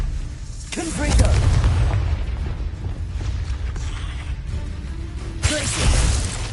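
Confringo fire spell blast in Hogwarts Legacy amid a string of combat spells: booming, crackling impacts with a sharp burst near the start and another toward the end over continuous battle noise.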